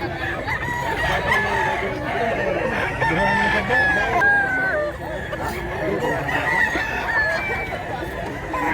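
Roosters crowing and chickens clucking at a fowl market, with several overlapping calls repeating loudly and up close while people talk in the background.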